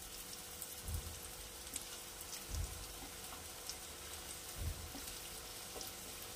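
Paneer kebabs frying in a little oil in a pan, a steady faint sizzle and crackle throughout with a few soft low thumps, no talking.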